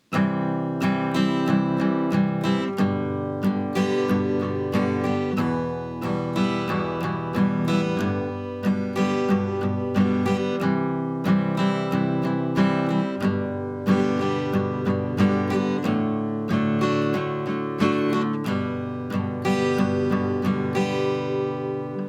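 An acoustic guitar strums a steady rhythm through the chords of a song, moderately loud and alone, with a regular down-and-up strumming pattern.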